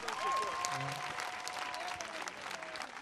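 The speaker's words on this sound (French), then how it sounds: "Je voudrais qu'on puisse les applaudir" A crowd in Côte d'Ivoire claps steadily throughout, dense and continuous, with some voices and a brief tonal sound mixed in.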